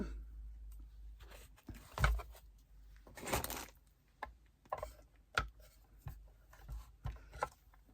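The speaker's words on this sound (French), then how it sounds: "je vais passer ça donc dans ma machine de découpe" A manual die-cutting machine cranked for scrapbooking, with a soft scratchy grinding pass and scattered clicks and creaks of the handle, close and quiet.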